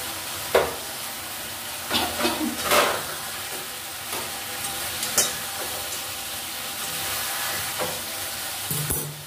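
Small fish, chuno and vola, are dropped into a spiced mixture fried down in a pan. A steady loud sizzle runs throughout, with clattering stirs and sharp spitting pops scattered over it.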